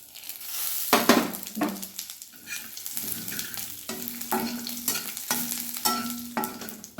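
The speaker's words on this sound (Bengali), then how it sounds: "ফোড়নটা ভেজে নিচ্ছি।" Bay leaf, dried chilli and cumin sizzle in hot mustard oil in a kadai after fish has been fried, with steady frying crackle and repeated scraping stirs of a spoon against the pan, close and fairly loud.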